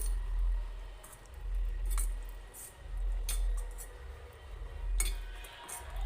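A spoon stirs Karachi halwa batter in a bowl to remove lumps, scraping softly with occasional light clinks against the sides, close and unhurried.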